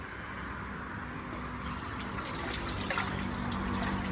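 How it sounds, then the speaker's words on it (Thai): Water pours steadily into a pot, a continuous rushing splash that grows slightly fuller as it goes, close by with no talking. "แล้วก็เทน้ำไปนะครับ"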